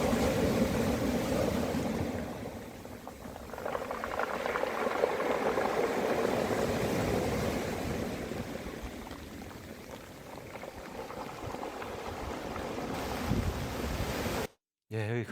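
Surf washes steadily over a shoreline, a continuous rushing, churning wash that swells and eases as water runs in and drains back out, close and fairly loud, ending abruptly.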